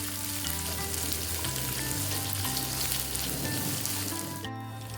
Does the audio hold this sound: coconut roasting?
yes